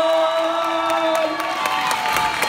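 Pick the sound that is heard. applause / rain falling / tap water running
applause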